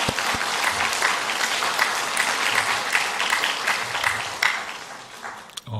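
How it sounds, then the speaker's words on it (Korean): A church congregation gives the Hallelujah choir a warm round of applause: thick, continuous clapping at a steady volume, fairly close, with a few sharper claps near the end and no talking. "수고하신다고 격려의 박수를 한번 해드리겠습니다"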